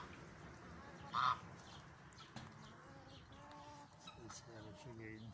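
Geese honking among ducks and other fowl in a bird yard, one fairly loud honk standing out briefly against low background calls while a person talks nearby.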